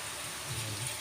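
Vinegar poured into a pot of paksiw na bisugo fish, a brief soft liquid splash and trickle, faint and close.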